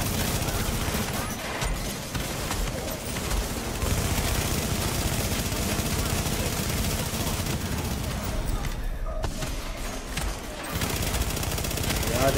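Sustained bursts of automatic weapon fire in the shooter The Division, a dense, steady battle din that hardly lets up, with a brief lull near the end.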